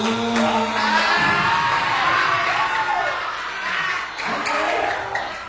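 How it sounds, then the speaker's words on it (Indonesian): A crowd cheers and shouts with whoops and clapping, loud and close, the noise swelling and easing without a break. "Tepuk tangan yang meriah untuk pembinaan."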